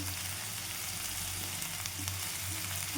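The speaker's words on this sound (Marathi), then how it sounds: "छान कांदा भाजून घ्यायचा" Onion fries in a pan for a dry monsoon wild vegetable dish of kantoli, giving a faint, even sizzle that runs steadily throughout with a small clatter at the end.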